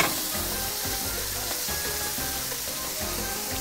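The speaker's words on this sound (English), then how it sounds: "So you just saute it. Bring out the onion flavor, the habanero flavor, the scallion flavor." Jumbo shrimp sautéing with onion, habanero and scallion in a hot pan, a steady close sizzle with occasional stirring scrapes throughout.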